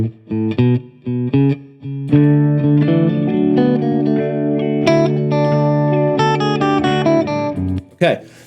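Distorted electric guitar improvises a melodic line over a backing track, short choppy notes at first, then sustained phrases with echo, fairly loud.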